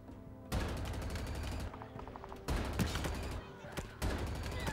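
Burst-fire gunfire in the video game Halo Infinite, with repeated short rapid volleys separated by brief gaps, loud and punchy against steady game ambience.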